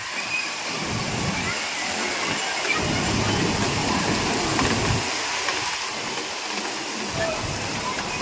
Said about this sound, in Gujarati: એટલો વરસાદ પડે છે ને આમ છે ને કઈ દેખાતો નથી, એટલો વરસાદ પડે છે